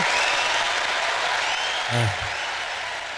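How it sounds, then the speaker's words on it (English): Round of applause from a large audience at a workplace-culture talk, a dense continuous clapping wash filling the room that swells briefly near the end, with a faint voice cutting in. "please give that big round of applause one more time for Aden Nepom."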